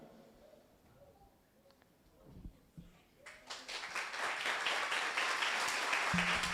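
Audience applause at a Sunday school anniversary in Abu Dhabi, rising after a quiet opening into a dense, sustained round of clapping that carries on to the end, with faint voices early on.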